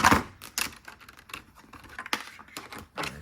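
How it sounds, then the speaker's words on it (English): Keys on a standard USB keyboard clack in a quick, uneven run of sharp taps on a workbench, close and moderately loud, with no talking. "Take a standard USB keyboard."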